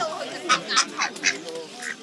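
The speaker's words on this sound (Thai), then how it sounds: "อันนี้เป็ด" A duck quacks several times in short nasal bursts, close by, with a few other fowl calls and faint background voices.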